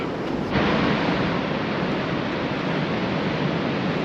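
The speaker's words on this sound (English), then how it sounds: "There's some good waves" Sea waves crashing on the shore at Scarborough on a cold, foggy day, a loud, steady roar of surf that swells slightly after the first half second and continues without a break.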